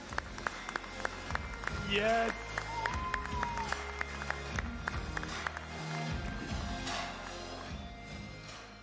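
A crowd applauds and cheers at an E3 stage event for a competitive RTS gaming match, steady clapping filling the room under a presenter's amplified voice, with a brief spoken reply near the middle.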